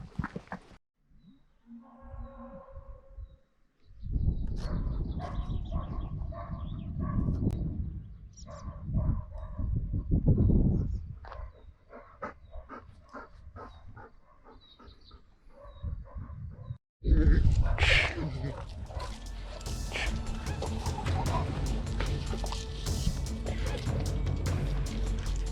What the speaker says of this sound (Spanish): a los perros. Siguen ladrando.